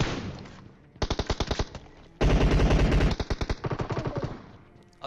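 Automatic gunfire from the battle royale video game PUBG crackles in rapid bursts, with a short rattling volley followed by a longer, louder sustained stream of shots and then trailing fire, loud and close.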